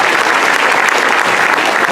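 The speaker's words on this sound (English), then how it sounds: "Ladies and gentlemen, give them a huge round of applause." Sustained loud applause from a cruise ship theater audience during an onboard welcome show, a thick, even roar of many clapping hands close by with no letup.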